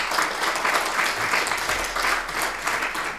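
An audience applauds a speaker at a JudaïCannes gathering, a steady, dense clapping that fills the room evenly for the whole stretch, close and fairly loud, with no talk over it.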